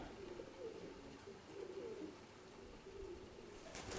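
Pigeons, kept as domestic flock birds, coo softly and repeatedly in low, throaty rolls against steady background noise, several birds overlapping at a moderate distance.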